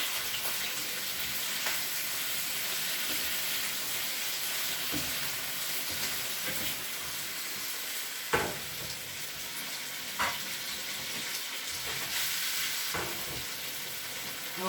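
Potatoes frying in a home kitchen pan, giving a continuous soft sizzle with a few scraping stirs and brief louder crackles, heard alone without talk.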